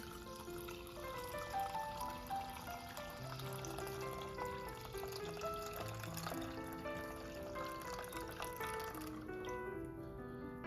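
Homemade rose hip syrup is poured through a strainer, a steady soft trickle of liquid lasting several seconds, with faint clinks and light background music.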